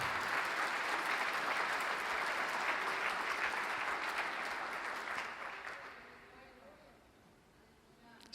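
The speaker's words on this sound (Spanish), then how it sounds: "Si le va a aplaudir, apláudale al Señor." A church congregation applauds during a pastor's sermon, a steady, full round of clapping from many hands that holds for several seconds and then gradually fades away.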